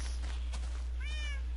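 A cat meows in the Minecraft video game, one rising and falling game-sound mew near the end, standing out over a low steady background hum.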